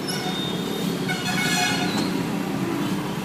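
Dense road traffic in Hyderabad, India, in 2012 during the office-hour rush: a steady engine rumble with repeated car and bus horns honking close by, and no talk.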